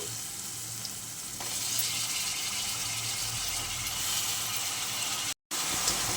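Onions and raw green banana pieces fry in a pan with a steady, close sizzle, plus some stirring clatter, alongside curry of dried prawns; a brief dropout near the end.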